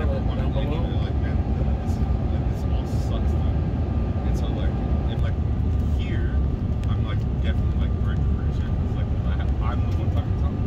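A loud, steady roar inside an American Airlines transatlantic flight's cabin during descent into London, with faint scattered voices and small clicks under the constant engine rush.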